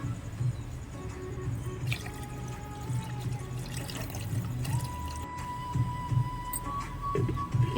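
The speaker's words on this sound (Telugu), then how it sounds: "నేను 4 కప్పుల బియ్యం తీసుకుంటే 8 కప్పుల నీళ్ళు అయితే ఇందులో వేసేసుకున్నాను" Water pours steadily into a pot of rice for bagara rice, a continuous splashing stream running the whole time with no voices.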